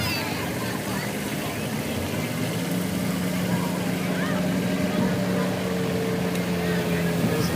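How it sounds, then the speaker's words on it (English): John Deere tractors and UTVs roll past in a Christmas parade, their engines giving a continuous low idling drone with steady outdoor crowd background. "more John Deere vehicles making their way. There's some UTVs and some tractors."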